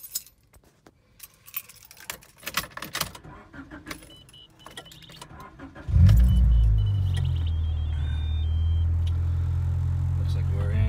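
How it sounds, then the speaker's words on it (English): A Honda car engine cranks and starts up partway through, settling into a steady, loud idle after a stretch of quiet handling noises and faint clicks. "let's go ahead and start the car up"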